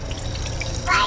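Water pumped into the galley sink of a 32 ft sailboat, a steady hissing pour that swells louder near the end, with people talking over it.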